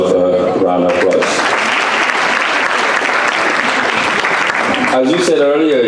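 An audience of young Gambian people gives a loud, sustained round of applause at a TAF Africa Global event, with dense clapping filling the space and talk heard at the start and end.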